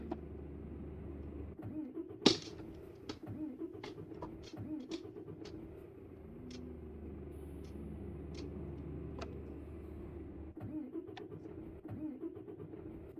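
A truck engine in Euro Truck Simulator 2 idles with a steady low drone, with scattered clicks and a brief sharp knock near the start while the driver shifts into first gear.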